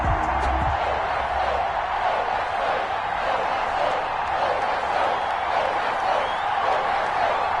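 Sold-out stadium crowd cheering in a Madden NFL video game as the Patriots take the field against the San Francisco 49ers, a steady loud wash of crowd noise with a brief thump at the start.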